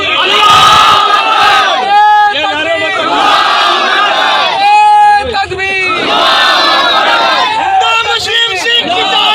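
Large protest crowd in Hyderabad chanting a slogan in loud, rhythmic unison responses to a leader's Naara-e-Takbeer call, voices repeating in surging bursts close by.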